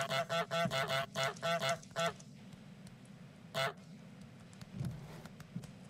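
Goose honking in Untitled Goose Game: a rapid burst of about eight loud, nasal honks in quick succession, then a pause and one more honk, over a soft background.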